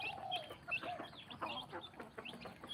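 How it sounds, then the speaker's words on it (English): A hen clucks repeatedly in short bursts, close by, with other fowl chattering and faint bird calls in the background. "This is the trailblazer hen here."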